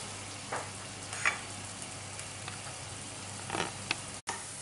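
Garlic browns in a frying pan for mushrooms in paprika sauce, making a soft, even sizzle with a few sharper crackles and brief stirring scrapes, quiet and close.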